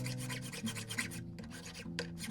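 Worn frets on a 95-year-old guitar being crowned with a file, a close, steady rasping scrape in rapid back-and-forth strokes with brief pauses.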